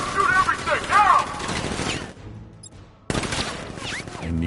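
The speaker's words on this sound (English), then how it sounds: "Open fire! Shoot everything, now!" Gunfire from guards in a Batman video game, dense bursts loud under shouted game dialogue, then a short quieter gap before more clatter and voices resume.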